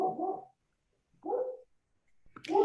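A dog barks three times in short, separated bursts, fairly close and alone, with silence between each bark.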